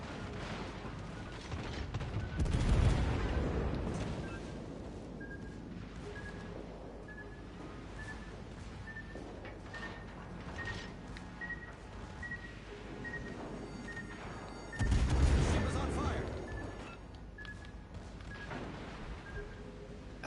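Warship main guns fire high-explosive shells in World of Warships Legends, two heavy booming salvos several seconds apart, each with a rumbling tail, over a faint continuous engine drone.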